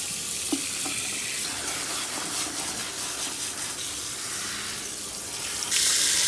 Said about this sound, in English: now after your 25, 30 minutes, you're gonna take your frontal and rinse off all the lightener.